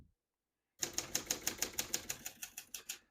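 Fast, even run of keystrokes on a 1966 Hermes 3000 vintage portable typewriter, each key striking crisply and close in a steady rhythm after a brief silence, with no voices.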